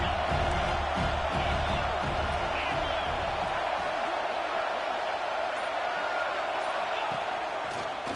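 Stadium crowd roars steadily in College Football 26 during an Iron Bowl game, a dense wash of cheering that stays fairly loud throughout with no clear breaks.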